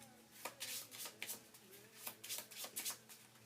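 Cards being shuffled during a Thunderstone Advance board game: a quiet series of riffling, flicking bursts in irregular rhythm, close to the microphone and faint overall, with no talking.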